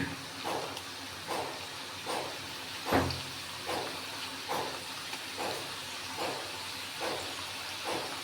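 Potato slices frying slowly in hot oil for homemade chips, a steady close sizzling hiss that swells in regular pulses, with no voices.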